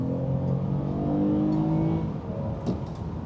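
Toyota Camry V6, eighth generation, pulling hard in sport mode on poor tires: a steady humming engine drone holds, then eases off toward the end, with a faint click near the close.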